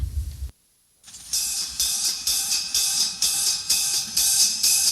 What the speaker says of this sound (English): Now here's the same excerpt with the cymbals.